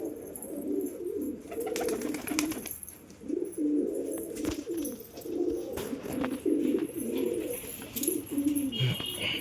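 Pigeons kept at home coo steadily around feeding time, a close chorus of low rolling, repeated calls with faint flutters and no talk.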